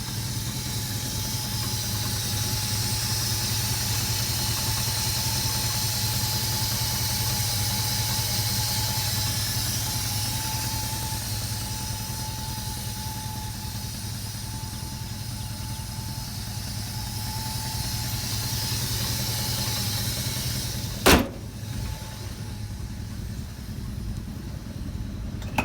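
A 1972 Ford F250 with an FE 360 V8 engine runs steadily at idle, a continuous low rumble with a faint hum, broken briefly by a sharp click near the end.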